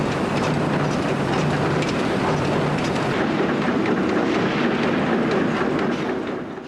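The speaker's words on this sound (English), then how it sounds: "The crosshead moves forward on a feed screw, synchronised with the rocking motion of the dies via a feed and turn gearbox." Tube rolling machine with rocking dies and a feed-and-turn gearbox, the crosshead advancing on a feed screw: a loud, continuous broadband mechanical rumble with rapid rhythmic clatter throughout, close by and steady.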